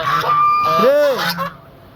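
A domestic goose gives a single loud, rising-and-falling honk close by at a farm shed, with faint background noise before and after.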